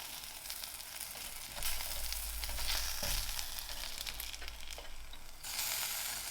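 Bacon and onion frying in a pan for a bacon, cheese and onion egg-in-a-hole sandwich, a loud continuous sizzle that swells as the food goes in, with no talk.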